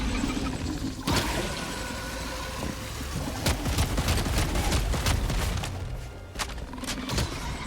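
Grenade launcher firing at a Bile Titan in Helldivers 2, a run of sharp shots and thumping blasts over a steady rumbling game background, several impacts spaced irregularly, close and loud.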